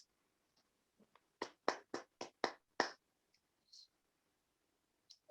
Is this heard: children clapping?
yes